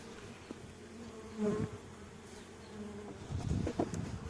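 Honeybees buzz around an open hive box while nucleus colonies are being settled, a steady dense hum that swells in louder bursts as the bees stir nearby.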